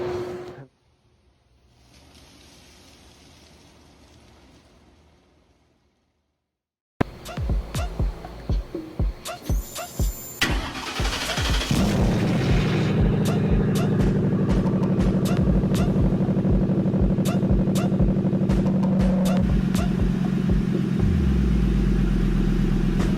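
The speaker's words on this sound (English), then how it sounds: "I'm gonna start the truck up and make sure there's no leaks." After a quiet stretch, a 1960 Ford F100 pickup truck engine cranks several times, catches, and settles into a steady loud idle rumble nearby in a garage with an exhaust fan.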